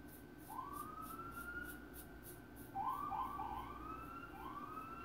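A police or emergency vehicle siren wailing in repeated rising sweeps, moderately distant, with a steady tone beneath and a louder burst of overlapping wails midway.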